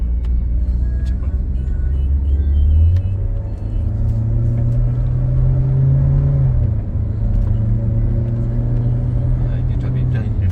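A Toyota Innova Reborn on a test drive pulls away with a steady engine drone that rises in pitch as it accelerates, then settles into a smoother hum, with people talking inside the cabin throughout.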